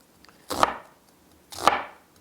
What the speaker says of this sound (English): I actually like to slice my onions the long way, this way